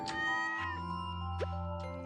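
A cat in the Stardew Valley farming game gives a couple of short meows over soft background game music and sound effects, with no talking.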